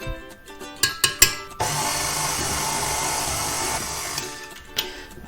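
A stand mixer works brioche dough in a bowl, with a steady whirring motor hum lasting several seconds after a few sharp knocks and clicks, then easing off near the end.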